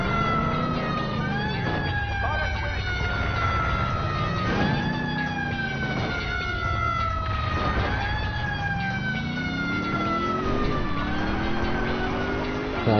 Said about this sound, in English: police car there